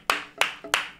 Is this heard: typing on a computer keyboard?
no